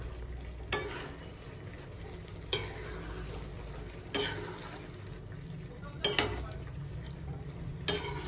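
Paneer mixture stirred and frying in a pan, a steady soft sizzle broken by several sharp scrapes and clinks of the spoon against the pan at irregular intervals.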